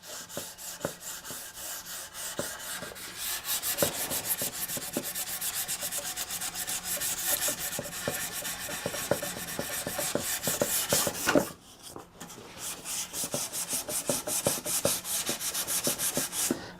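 Sandpaper rubs steadily back and forth over a wooden Egyptian-style stool with ebony pins, a continuous close scratching that pauses briefly near the end before resuming.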